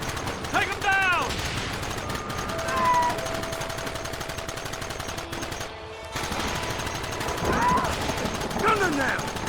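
Rapid gunfire in the Red Dead Redemption video game, dense bursts of shots crackling continuously amid a firefight, with shouting voices heard over the shooting.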